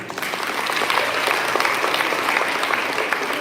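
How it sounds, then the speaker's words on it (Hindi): An audience at a Hindi Diwas event at Hyderabad Public School, Begumpet, applauds the student performers with brisk, continuous clapping that stays steady and fairly close throughout. "उन सब के लिए ताली हो जाए"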